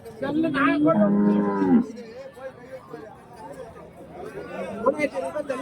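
Cattle at a busy livestock market moo, one loud drawn-out call close by, followed by fainter lowing amid a steady crowd hubbub and chatter.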